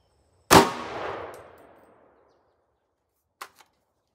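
.300 Blackout rifle firing a Nosler 110gr Varmageddon round into a ballistic gel block: one sharp, loud report with a ringing decay lasting over a second, then two faint clicks near the end.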